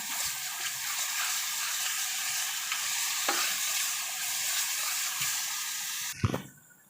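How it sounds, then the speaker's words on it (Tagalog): Chopped chicken stir-fries in a pan over sautéed onion and garlic, a steady close sizzle and hiss that runs unbroken, with a sharper clatter near the end. "Ilagay po natin yung chicken pagkatapos natin gisahin yung onion at saka garlic."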